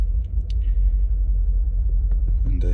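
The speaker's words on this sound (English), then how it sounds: "this thing's misfiring really bad" A 2013 Mercedes G63 with the M278 5.5L twin-turbo V8 misfiring at a rough idle, a low, uneven rumble close by, with a few faint clicks and sounds near the end.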